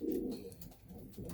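A young racing pigeon cooing close by, a soft low throaty coo that swells, dips and rises again in one short phrase.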